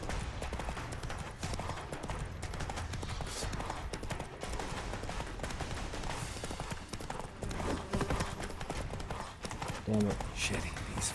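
Roach, the horse in The Witcher 3, gallops with a steady, driving clip-clop of hooves up close, and voices talk over the pounding rhythm throughout.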